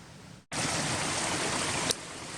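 A mountain stream rushes beside a hiking trail in Rocky Mountain National Park, a loud, steady broadband roar of flowing water that swells abruptly after a brief dip and continues evenly, with a faint lift toward the end.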